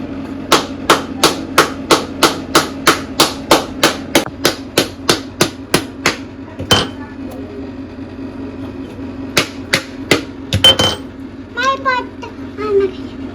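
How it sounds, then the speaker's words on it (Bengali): A coconut struck with a small metal mortar pestle, a fast, loud, regular run of about twenty close hard knocks, then a pause and a few more knocks, with people talking over the end. "এই ছোট যে হামাল দিস্তাটা আছে সেটা নিয়ে এরকম এরকম ঠোকাতেই না খুব সুন্দরভাবে সব ছেড়ে যাচ্ছে"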